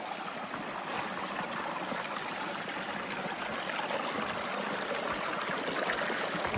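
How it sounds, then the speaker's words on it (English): A small creek flows steadily nearby, a continuous close wash of trickling, babbling water with no voices over it. "Pretty cool little creek."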